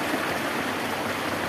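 Glacier-fed mountain stream flowing steadily, a dense, continuous rushing wash of water close to the microphone with no pauses or voices.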